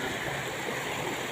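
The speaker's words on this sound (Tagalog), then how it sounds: "Malakas yung silig." A strong river current rushes steadily past, a constant broadband wash of flowing water heard close and fairly quiet, with no voices and no break in the flow.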